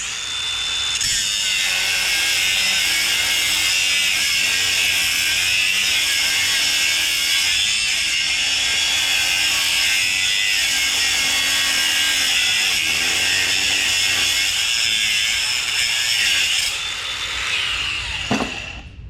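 Power tool with a cutting disc slicing through copper and aluminum heat sinks for scrap, a loud continuous high grinding whine with shifting pitch as the disc bites into the metal, close by without talk.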